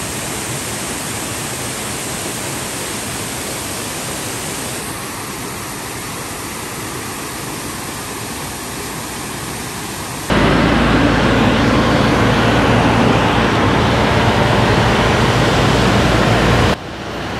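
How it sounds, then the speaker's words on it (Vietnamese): Roadside waterfall on the Bảo Lộc mountain pass during the rainy season, a loud, steady roar of rushing water that carries on throughout, growing louder and fuller partway through. "Thác nước dọc đường đi rất là đẹp quý vị này"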